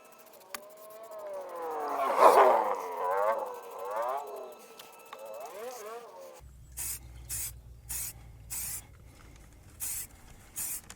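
Aerosol spray paint going on as a second coat over the repaired sill of a 1999–2007 Mk1 Skoda Fabia, heard as a run of short, evenly spaced hissing bursts in the second half, after a stretch of unrelated noise.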